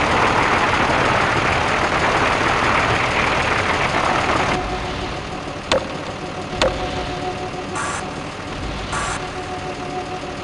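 A tank engine runs in Gunman Chronicles, a loud rough low rumble that drops to a steadier idle halfway through, broken by a couple of sharp metallic clicks and brief hissing bursts.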